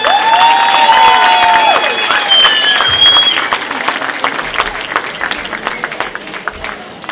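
Loud clapping from a carnival group's audience fills the start, with whistles and cheers on top, then thins into scattered claps that continue at a lower level.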